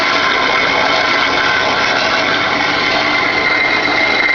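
A bandsaw grinds through a thick 7018 weld, a loud, close, steady rasping drone that holds constant throughout with no pauses and no talk.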